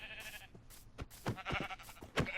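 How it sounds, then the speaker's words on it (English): Sheep bleating in Minecraft, several short wavering game bleats in quick succession, clear and fairly faint, with no voice over them. "And one reason why I'm killing so much sheep is to get a bed"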